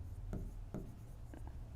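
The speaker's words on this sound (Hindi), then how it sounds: "तो सबसे पहले ये वर्ड लिख दो" A pen writes a word by hand on paper while solving a maths practice paper, giving a few short, faint scratchy strokes in quick succession.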